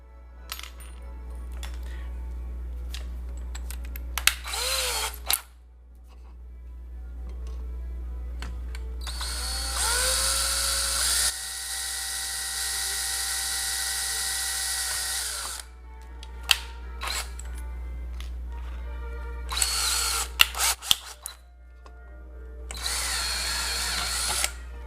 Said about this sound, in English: we're going to mark our hole for our rectifier, right? And we can go ahead and drill the guy.